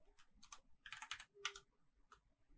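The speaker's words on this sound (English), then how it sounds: "We can do that by typing box plot," Quick, faint clicks of a computer keyboard being typed on come in short bursts in a quiet room, with no talking.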